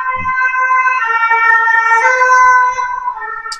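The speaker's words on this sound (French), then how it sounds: "En ce moment, c'est le passage des ambulances, des pompiers, de la police, tout, ça n'arrête pas." Emergency vehicle sirens from passing ambulances, fire trucks and police, loud wailing tones sweeping continuously and overlapping, with a brief low thump near the start.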